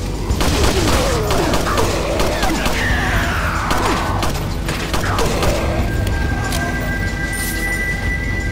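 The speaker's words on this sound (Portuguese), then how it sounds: "É uma alavanca, puxar, sim. O elevador foi ativado" In Resident Evil 4, a lever is pulled and an elevator starts up. Game audio gives dense mechanical clanks and grinding, then a rising hum and sustained whir over a constant rumbling background.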